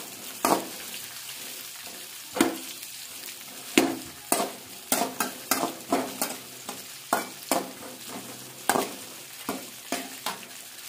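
Village-style mushroom curry sauce bubbles and sizzles in a pan, with a spoon scraping and clacking against the metal in irregular strokes, close and alone.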